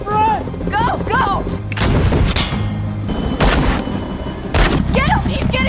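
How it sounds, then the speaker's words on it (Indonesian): A film shootout with an FBI team. Loud, sharp gunshots crack out in separate bursts between urgent shouting voices. "kembali terjadi baku tembak"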